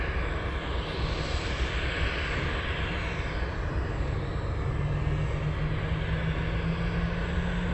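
Aircraft engines at Anchorage airport give a loud, continuous roar that holds steady for the whole stretch, with a broad rushing hiss and a low tone creeping slightly higher near the end.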